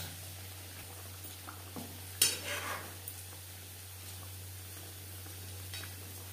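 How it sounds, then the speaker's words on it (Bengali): Fried fish being stirred into simmering gravy for a fish curry with cumin and ginger paste, a faint soft bubbling sizzle with a few quiet scrapes and clinks of a spoon against the pot. "মাছ বেশ ভালো করে মিক্সড করে দেব।"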